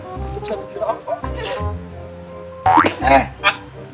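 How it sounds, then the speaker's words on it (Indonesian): Chickens squawk and cluck in a short noisy burst near the end, with voices talking over and around them. "ayam ribut nih"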